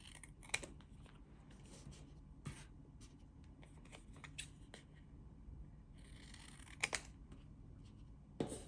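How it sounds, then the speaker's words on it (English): Scissors cutting thick paper into diamond shapes, faint close snips and paper rustles scattered irregularly over a quiet room. "So now I'm going to cut my diamonds first."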